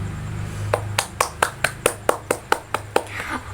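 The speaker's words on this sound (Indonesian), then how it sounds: "kita kasih aplaus dulu untuk yang berpartisipasi pada pagi hari ini" A small classroom group gives a short round of applause for participating students: about a dozen evenly spaced, crisp claps in a steady rhythm, with a voice heard at the start.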